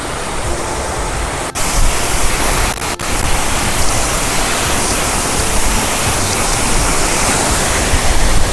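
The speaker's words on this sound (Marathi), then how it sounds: "असं पांढरं शुभ्र पाणी आहे वॉटरफॉलचं आणि तो धबधब्याचा आवाज" Subhedar waterfall roars with a loud, dense, continuous rush of falling water, close by and unbroken apart from a couple of brief dips.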